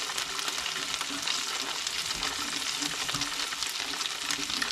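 Steelhead fish frying in a hot pan, a dense, continuous crackling sizzle that stays steady and fairly soft throughout, with no talking.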